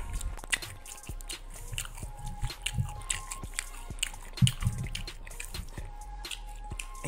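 Someone eating McDonald's chicken nuggets dipped in buffalo and ranch sauce, with close, wet chewing and biting sounds in irregular bursts at low volume and no talking.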